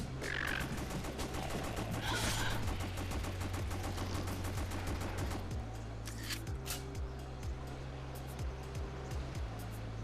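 SMG gunfire in the rail-shooter video game House of the Dead Overkill, heard as steady rapid bursts of shots over a droning game soundtrack with other effects, with no talking.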